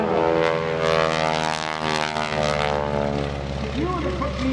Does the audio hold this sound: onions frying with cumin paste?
no